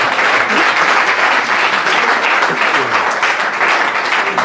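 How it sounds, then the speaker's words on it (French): A church congregation applauds for the Lord, loud and close, with sustained, dense clapping and faint voices mixed in beneath it. "Applaudissons pour le Seigneur."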